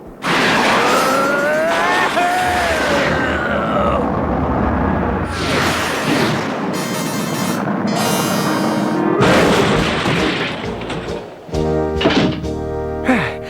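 Cartoon rocket launch and blast from a Garfield and Friends episode, a loud sustained roaring rush with whistling tones, heavy thumps and a booming explosion, mixed with brief shouting voices and music.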